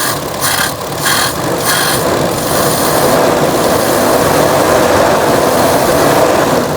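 A small engine fitted with a carburetor idles and revs in short bursts at first, then holds a steady, loud, high-pitched drone, close up with no talking.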